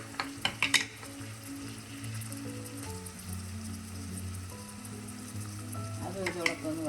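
Shallots and curry leaves sauté in hot oil in a pan for a coconut-based Para fish head curry, giving a steady, close sizzle. A few quick utensil clinks sound at the start, and a faint low hum runs underneath.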